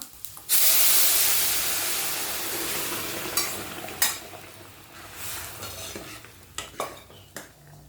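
A spoon scraping and stirring through sambar in a metal pot, with a bubbling hiss underneath and a few sharp clinks against the pot's side.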